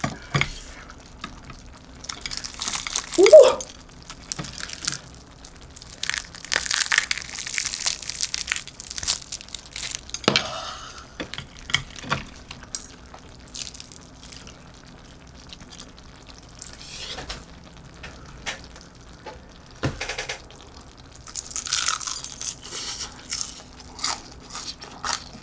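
Crispy old-style Korean market fried chicken being eaten up close, with loud crunching bites and crackling chews in repeated bursts, no talking.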